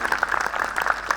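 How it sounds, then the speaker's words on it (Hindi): Brief burst of audience clapping at a Hindi kavi sammelan poetry event in Indore, a short loud patter of many hands. "एक बार इस कार्यक्रम के लिए आपकी तालियां होनी चाहिए"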